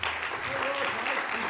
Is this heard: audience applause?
yes